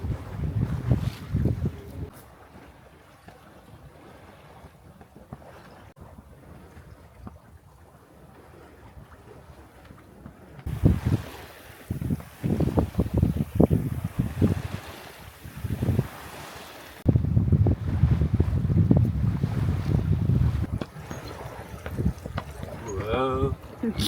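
A sailboat tacks at sea at about five knots in foggy weather between Denmark and Germany. Steady wind buffets the microphone over rushing water, growing louder and rougher in the second half, with occasional voices.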